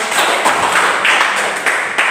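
A class of students clapping together in a classroom: a brisk, even run of loud handclaps repeating in a steady rhythm, close and full, with no talking.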